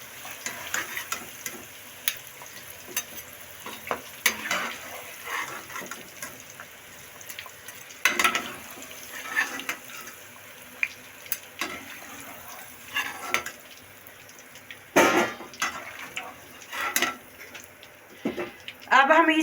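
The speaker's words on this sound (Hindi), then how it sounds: "आलू हमारे फ्राई हो गए हैं। अब हम इसे निकालते हैं।" Fried potatoes lifted from hot oil into a strainer, with light sizzling under sharp metallic clinks and scrapes of a spoon against the pan and strainer, intermittent and close.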